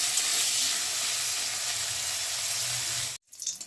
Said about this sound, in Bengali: একে উচ্ছেগুলোকে দিয়ে একটু ভেজে নেব।